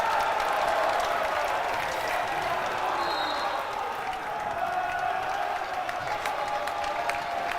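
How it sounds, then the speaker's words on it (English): A home basketball crowd at a college game roars with sustained cheering and applause after back-to-back dunks, a loud, dense wall of noise that holds steady throughout without fading. "Just listen to this crowd."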